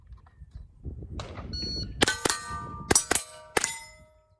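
Shots at a Steel Challenge competition send bright metallic clangs ringing off steel targets, about five sharp hits in quick uneven succession, each with a short ringing tail over faint background noise.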